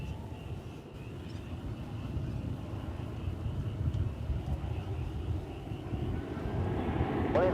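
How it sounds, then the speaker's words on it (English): A Boeing 787 Dreamliner taxis at DFW Airport, a steady low jet engine rumble that grows slightly louder over several seconds, heard from a distance with a faint whine above it and no talking. "Got a big Dreamliner, which is now moving north."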